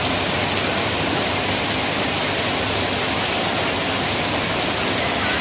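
Heavy rain keeps falling on a street, a loud, unbroken wash of hiss throughout with no talking.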